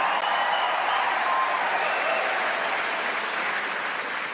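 Studio audience applause on a comedy news show, a steady dense wash of clapping that holds at an even level throughout with no talk over it.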